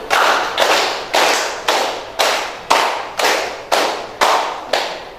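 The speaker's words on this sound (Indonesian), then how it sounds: "Coba tepuk 3 kali." A school class claps together in unison, about ten sharp, evenly spaced claps in a steady rhythm, loud and close, with no talking between them.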